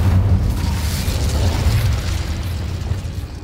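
Incendio fire spell cast in Hogwarts Legacy, a loud, sustained low roaring burst of flame and blast energy that holds steady for several seconds before easing slightly.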